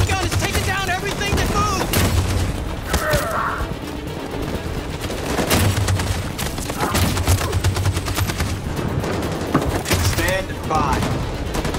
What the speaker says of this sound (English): That machine gun is taking down everything